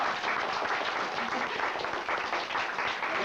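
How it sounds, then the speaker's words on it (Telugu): A group claps together at a New Year's Eve get-together in Tarnaka, a steady dense patter of many hands that holds for the whole stretch at a moderate distance, with no voices standing out. "గట్టిగా వచ్చారు, చప్పట్లు కొట్టాలి."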